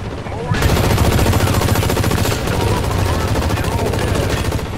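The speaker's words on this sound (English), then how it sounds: "I'm trying to keep some cover fire." Rapid automatic gunfire in a cooperative shooter game, loud and sustained as dense continuous bursts for several seconds with a brief break in rhythm midway; a player's voice mixes in.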